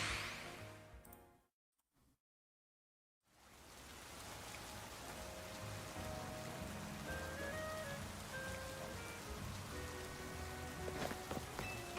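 Steady rain falls in Pokemon Legends: ZA, a broad even wash of drops that cuts out briefly near the start and returns with soft game music tones over it.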